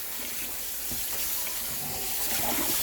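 Running water splashing over raw goat meat being washed for Jamaican curry goat, a steady rushing tap-and-sink sound filling the whole stretch at moderate loudness, with no talking.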